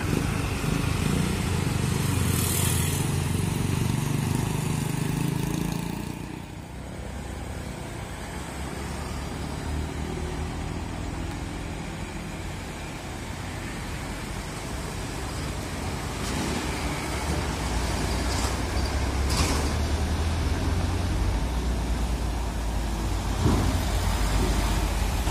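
A Hino Dutro truck working through a tight bend, its diesel engine droning low and loud throughout, dipping briefly before building again as it climbs on.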